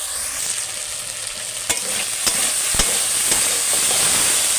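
Vegetables including potato, taro and eggplant fry in a pan with salt and turmeric, giving a loud, even hiss of sizzling oil with occasional sharp scrapes and taps of a spatula against the pan.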